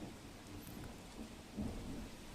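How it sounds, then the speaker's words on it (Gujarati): Steady rain hisses in the background while low thunder rumbles beneath it, swelling briefly near the end; fairly faint and distant overall, during monsoon rainfall in Suigam, Banaskantha, Gujarat. "તો આપ જુઓ સતત વરસાદ વરસી રહ્યો છે"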